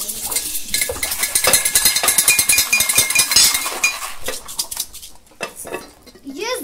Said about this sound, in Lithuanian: Mažesnysis puodas traškino daržoves.